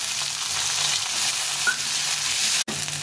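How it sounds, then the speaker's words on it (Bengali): Potatoes frying in hot oil with black cumin and green chilli, a loud, even, dense sizzle heard up close and steady throughout, with one abrupt momentary dropout near the end and no talking. "আলুটা ভেজে নিব।"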